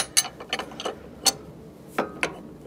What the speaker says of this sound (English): I need to rotate this around so I can get a crescent wrench on the bottom